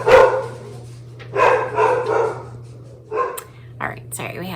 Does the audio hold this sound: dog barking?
yes